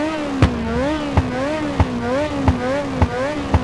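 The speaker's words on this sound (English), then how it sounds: "it's time to fire up those engines" Race car engines in Ridge Racer 2 hold a steady loud drone with a wavering pitch at the race start, while sharp clicks or thumps recur about every 0.7 seconds.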